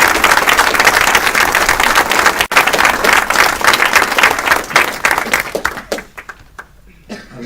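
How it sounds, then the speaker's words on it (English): A round of applause from an audience at a council meeting, steady dense clapping for about six seconds before thinning out into a few scattered claps and quiet. "can we just give them a short round of applause?"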